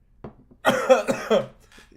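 A single throaty cough burst, close and fairly loud, followed by a couple of softer breathy sounds in otherwise quiet surroundings.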